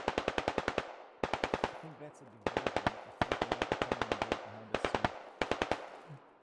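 Automatic rifle fire in the tactical shooter game Insurgency comes in rapid bursts of sharp, loud shots, six or seven strings separated by brief pauses, with faint voices in the gaps.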